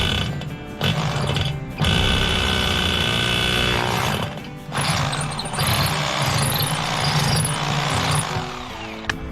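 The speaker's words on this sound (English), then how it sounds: "I guess only one way to find out if that drill is gonna work" A power drill runs while working on a metal plate being mounted to a front gate, a loud, steady whirring with brief pauses and restarts, close by and without talk.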